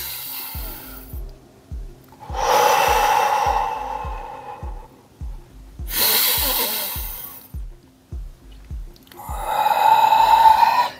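Deep breaths during a power yoga session, three long forceful exhalations with quieter inhales between, close to the microphone over a faint steady rhythmic pulse of background music.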